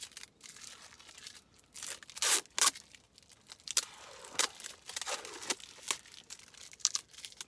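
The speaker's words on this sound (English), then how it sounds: "I'll unwrap this because I wrapped it up nice and tight, so this is going to take a few seconds." A tightly wrapped little packet of salt, chilli and garlic being unwrapped by hand, giving bursts of crinkling and tearing paper or film over several seconds, close to the microphone with no talking.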